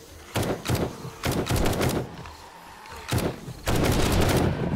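Loud bursts of automatic gunfire in 7 Days To Die, coming in several separate volleys with brief gaps between them, the last burst running to the end.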